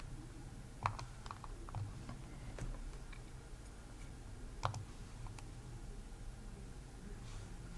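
Typing on a computer keyboard while entering a password for a Windows 11 remote desktop login, with faint, sparse key clicks and a couple of sharper taps over quiet room hiss.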